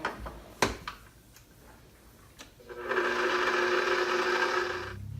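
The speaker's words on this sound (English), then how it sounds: "we're going to stir this on a low speed just till it comes together" Stand mixer on low speed stirring gluten-free pumpkin muffin batter, starting after a few faint ticks and taps and then running as a steady, close mechanical whir that stays even to the end.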